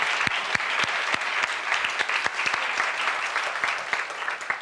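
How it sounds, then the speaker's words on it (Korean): A church congregation at a Sunday worship service claps in encouragement, a dense, sustained round of applause from many hands filling the room, with a faint voice in the background. "우리 격려의 박수 한번"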